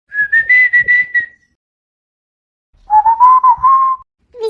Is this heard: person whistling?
yes